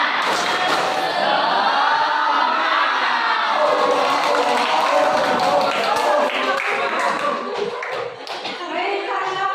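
A school class performing the tepuk semangat clapping chant: children shouting rhythmically together with quick patterned claps, loud and close, running throughout with the energy of a group cheer.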